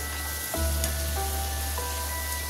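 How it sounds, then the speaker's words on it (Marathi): Ginger, garlic and green chillies sautéing in hot oil in a pan, a steady close sizzle with a brief clink of a utensil near the start and a faint background tone, no voices. "ते चांगले परतून आपल्याला घ्यायचं आहे"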